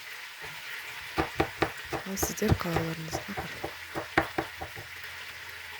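Meat frying with garlic in a pot for Kazakh sorpa soup, giving a quiet sizzle under a woman's speech, with clanks and stirring knocks from a utensil against the pan.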